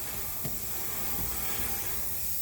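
A spray gun hisses steadily as it coats a car wheel rim with paint on a retired police Impala, one continuous spray heard up close without talk.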